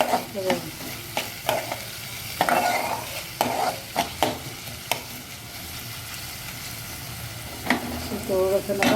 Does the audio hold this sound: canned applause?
no